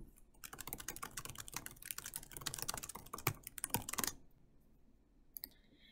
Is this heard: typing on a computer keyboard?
yes